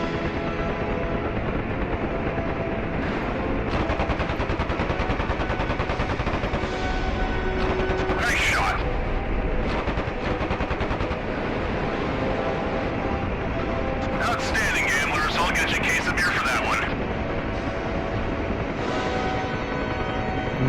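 A heavy .50 calibre machine gun in a video game fires sustained rapid bursts, a steady mechanical chatter running throughout, punctuated by a couple of louder blasts.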